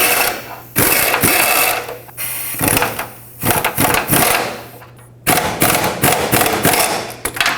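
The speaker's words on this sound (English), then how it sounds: "Get your 15mm socket in there and snug up this bolt." A bolt snugged with a 15mm socket on a rear transmission mount of a 2007-2010 Chrysler Sebring, heard as loud, close bursts of rapid ratcheting and buzzing mechanical rattle broken by short gaps and thuds.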